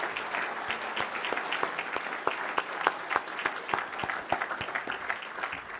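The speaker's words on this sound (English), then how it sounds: "I ask you all to join me in a round of applause for this extraordinary woman" A crowd claps enthusiastically, a dense patter of many hands with sharper individual claps standing out, sustained without letting up.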